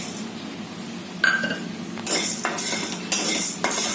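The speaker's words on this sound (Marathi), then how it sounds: "थोडं साबुदाणा ना आता थोडंसं भाजून घ्यायचं" A spoon stirring sago pearls roasting in a pan for a fasting-day dish: metallic scraping and clinks against the pan come in several short bursts, close and clear after a quiet start.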